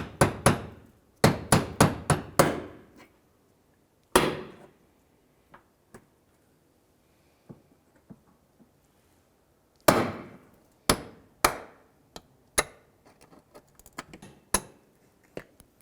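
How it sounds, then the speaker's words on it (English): Sharp hammer strikes on a punch driving out rivet centers on a 2004-2009 Dodge Durango during exhaust manifold gasket work, with quick bursts of several metallic blows, pauses, then further scattered hits, close and loud. "you're going to punch out the center and go all the way around"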